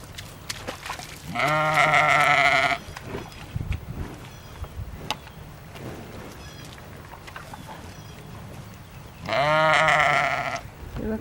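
Sheep on a small farm bleat in two loud, drawn-out calls, one near the start and one near the end, with quieter farmyard noise and faint voices between them.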